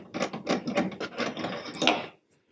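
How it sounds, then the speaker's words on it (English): A medium-size Allen wrench turns out a shipping retention screw on a lens edger, giving close, rhythmic ratcheting scrapes and clicks for about two seconds before it stops. "I use my medium-size Allen wrench. I'm going to go ahead and pull that out now."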